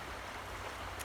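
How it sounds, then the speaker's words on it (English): Water flows steadily through a creek outdoors on a calm morning, a soft continuous rush with no voices over it. "Here at this beautiful creek"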